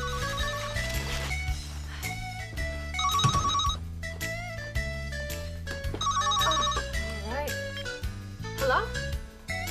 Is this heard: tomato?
no